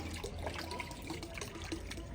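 Cold water flows steadily in a Swiss village, a continuous close splashing and trickling stream with no pauses.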